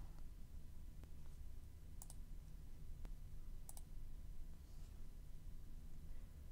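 Occasional computer mouse clicks and faint keyboard taps while entering a web address, sparse and quiet against a steady background hiss, with no voices.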